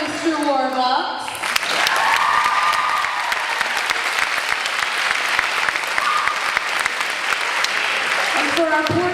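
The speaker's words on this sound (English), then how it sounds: "One more round of applause for Mr. Warbucks." A school audience claps loudly and steadily after a junior production of Annie, sustained applause filling the room for several seconds, with a voice over the sound system at the start and end.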